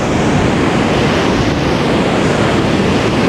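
Sea waves and wind at the shore, steady loud surf wash with blustery wind buffeting the microphone, no voices.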